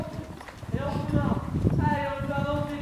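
A horse trots in a dressage lesson arena, its hooves clip-clopping in a quick, even beat under an instructor's voice.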